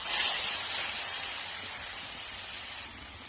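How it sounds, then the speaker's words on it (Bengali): Boiled ripe mango and its water go into a hot black mustard seed tempering, setting off a loud, close hissing burst of steam that slowly eases over a few seconds. "এখন আমি সিদ্ধ করা আমটা জল সহ দিয়ে দিলাম।"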